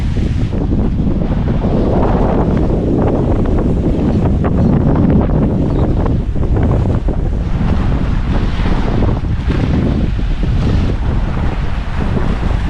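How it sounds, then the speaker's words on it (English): Strong wind roars and buffets the microphone steadily throughout, a loud continuous rushing outdoors with no voices. "It's warm and windy today."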